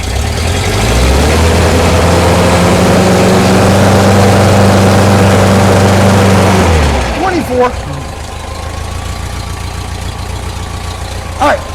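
A 1972 VW bus engine idles loudly and close by with a steady low rumble, then shuts off about seven seconds in, leaving quieter background noise and a few clanks; someone speaks.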